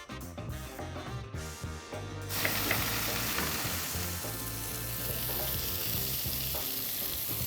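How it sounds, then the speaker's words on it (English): Mushrooms and onions frying in a pan in the juices and fat left after cooking eye fillet steak: a loud, steady close sizzle that swells suddenly after a couple of seconds and keeps going, with stirring and no talking. "While the mushroom and onions are cooking here"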